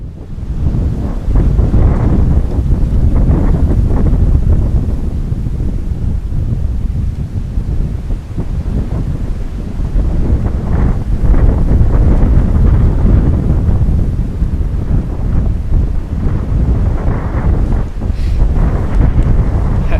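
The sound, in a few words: strong wind outdoors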